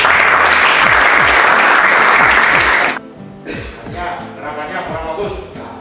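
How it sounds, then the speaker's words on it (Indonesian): An audience claps loudly and steadily at an Indonesian police education seminar, the dense applause cutting off abruptly midway, followed by quieter room sounds and a voice speaking. "berikan aplaus"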